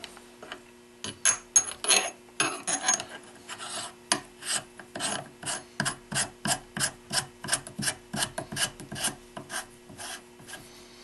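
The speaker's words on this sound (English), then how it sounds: "time to install the new barrel nut" Rifle handguard barrel nut being installed and tightened, a rapid series of close, loud ratcheting clicks in steady bursts, speeding into an even rhythm, with no talk.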